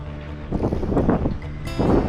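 Wind blowing outdoors in the Australian outback, gusting in buffeting rushes across the microphone in short swells, loud and close.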